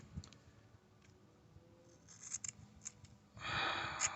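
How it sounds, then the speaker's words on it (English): Scissors snip pieces for a temporary plastic bumper crack repair: a few short, quiet cuts, then a longer, louder cutting stroke near the end. "And now we're just gonna cut the pieces"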